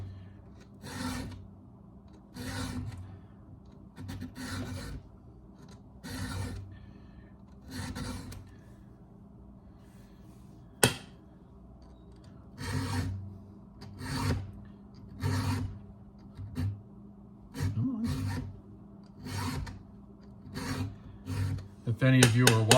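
A hand file rasps in repeated rhythmic strokes, each a distinct scraping burst with brief gaps, close and moderately loud, with a sharp click partway through.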